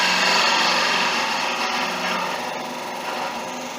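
A gouge makes a light bevel-rubbing cut across the end grain of a wooden bowl turning on a lathe, a steady close hiss and rasp that eases slightly in loudness as the cut continues.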